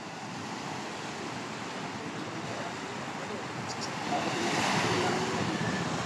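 Ocean waves wash and surge around a small fishing boat at sea off Mindoro, a continuous broad rushing hiss with wind on the microphone that swells louder toward the end.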